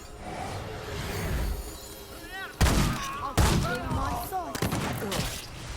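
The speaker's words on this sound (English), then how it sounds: "where's that shot coming from? Someone's trying to shoot me from distance." Gunfire in the video game Remnant 2, a few sharp, loud shots cracking out amid game ambience and whooshing effects, with someone talking over the action.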